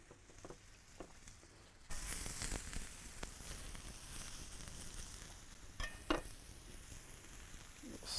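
Sliced peppers hit an outdoor MoJoe griddle: quiet handling noises give way to a sudden sizzle that continues as a steady crackling hiss, with a few sharp scraping clatters from a spatula.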